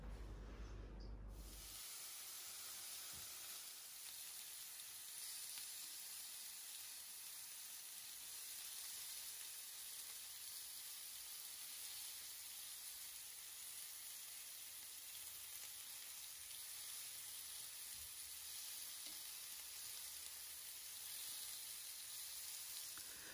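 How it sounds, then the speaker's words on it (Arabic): Meat brochettes on skewers grilling in a home kitchen give a steady, even sizzling hiss throughout, moderately close and unbroken, with no talk over it. "غادي ندير دابا هاد لي بروشيت يتشواو"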